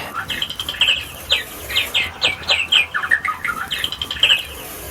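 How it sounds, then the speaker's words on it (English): A bird clock gives a run of bright, repeated chirps and trills close by, fairly loud and busy, with no talking over it. "That's my bird clock."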